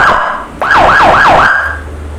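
Siren from a Cobra 100 watt siren speaker, a loud close electronic wail that rises and then cycles through three quick yelping sweeps before holding a steady tone, heard alone.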